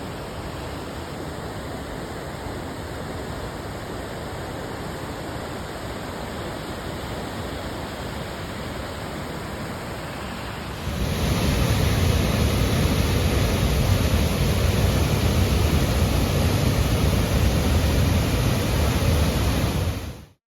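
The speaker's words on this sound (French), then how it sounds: "On suit une belle rivière et on peut voir une belle chute." Steady broadband rush of a river and waterfall along the Ouiachuan forest trail near Val-Jalbert, a constant roar that swells noticeably louder midway as the falling water comes closer, with no voices.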